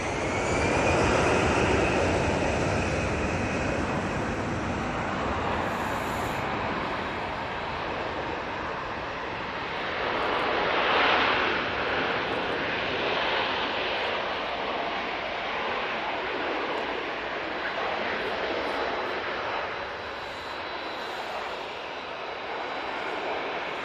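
A Global Airlines Airbus A380 departing Manchester Airport roars loud and close with a sustained broadband engine rumble that swells and slowly fades as it climbs away.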